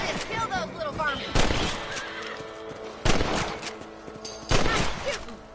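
Gunshots ring out while hunting rabbits in Red Dead Redemption, three sharp loud bursts spaced about 1.5 seconds apart, set against horse whinnies and hoofbeats with game dialogue in between.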